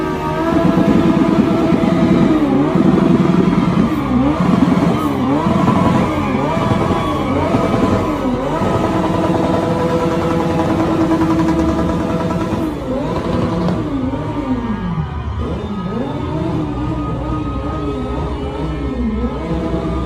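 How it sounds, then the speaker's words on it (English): Motorcycle engine revved repeatedly during a church gathering, loud rising and falling throttle sweeps over a steady mid-range drone, continuing throughout with a dense background. "why are they revving a motorcycle while she walks in?"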